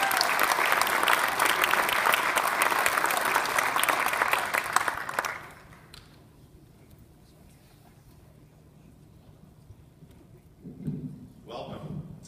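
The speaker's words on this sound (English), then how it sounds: "So I'm going to give a big round of applause to Mr." An audience at a high school athletic hall of fame induction ceremony gives loud, dense applause for about five seconds, then it cuts off into a quiet room before a voice briefly begins speaking.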